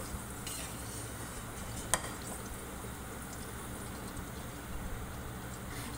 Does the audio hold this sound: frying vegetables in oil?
yes